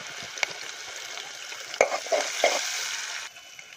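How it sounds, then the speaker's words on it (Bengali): Onions frying with turmeric and salt in a pan, a steady close sizzle with a few sharp stirring scrapes partway through. "ফার্স্টে আমি পেঁয়াজগুলো দিয়ে দিচ্ছি, একটু হলুদ অ্যাড করব"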